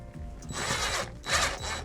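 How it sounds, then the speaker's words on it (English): Power drill pre-drilling a screw hole for a closet light track bracket, two close whirring bursts with a brief pause between them. "Go ahead and pre-drill."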